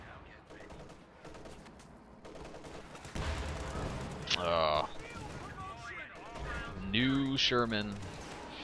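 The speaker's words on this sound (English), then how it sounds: "You hear the priest firing" Priest self-propelled artillery firing in Company of Heroes 2 as bursts of battle noise with sharp reports around the middle and end, mixed with other gunfire under steady talk.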